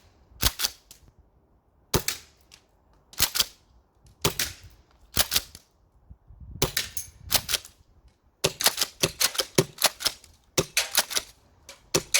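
Golden Eagle M870 gas-powered airsoft pump shotgun firing a series of sharp, loud cracks, single shots at first then quicker bursts, with pump racking and brief pauses between them.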